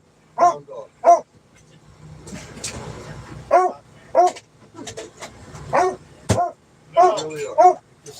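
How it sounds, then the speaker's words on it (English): A hound dog barks loudly and close by in a series of sharp, repeated barks and yelps spaced through the scene, mixed with a person's talking and some background shuffling. "You're a loud hound dog."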